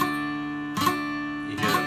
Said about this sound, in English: hear that buzzing or just a muted sound